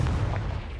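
A short, deep boom from a Confringo fire spell in Hogwarts Legacy, a single low blast that rumbles briefly and fades within a second, heard close and alone.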